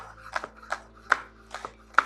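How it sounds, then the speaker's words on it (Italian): A knife chops a spring onion finely on a board in quick, light, rhythmic cuts, close and crisp with no talk. "Tritiamolo finemente."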